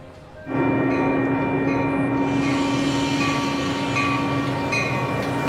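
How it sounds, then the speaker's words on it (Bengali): A train rumbles in loudly after a quiet moment, a steady heavy rolling roar with faint squealing tones, no voices. "শেষ পর্যন্ত ট্রেন এসে গেল।"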